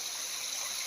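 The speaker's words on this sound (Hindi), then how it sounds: "ये कुआं से पूरा पानी निकलता है ऊपर से।" Spring water flows from a well in a forest reserve area, a brief steady hiss of running water, close and even.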